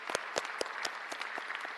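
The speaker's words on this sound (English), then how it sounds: "I'd first like to give them a round of applause and thank them for their leadership and service." Applause from an audience at a public works board meeting, a brief burst of steady clapping that fills the room at moderate level with no talk over it.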